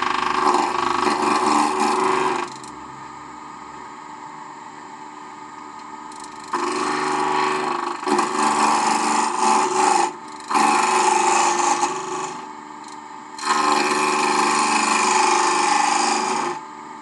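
Wood is cut on a lathe while a cube is turned on the bias, producing loud bursts of scraping, rasping tool contact separated by pauses where only the spinning lathe hums.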